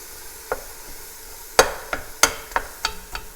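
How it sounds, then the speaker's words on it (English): Two pounds of ground beef browns in a pan for chili, giving a quiet sizzle. A spatula stirs and mashes the meat, making several sharp scraping taps at an irregular pace. "First thing I'm going to do is go ahead and get our beef all browned."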